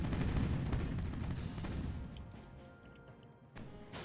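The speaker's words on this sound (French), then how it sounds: "Le canon du fort a explosé." A fort's cannon explodes in the video game Age of Pirates, a loud blast that booms and rumbles, then fades into a lingering crackling roar, with a second sharp impact near the end.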